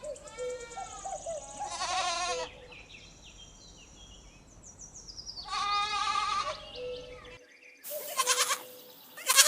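Goats bleating in bursts, several loud wavering calls separated by quieter stretches of faint background birdsong and ambient noise, with a sharp final bleat at the end.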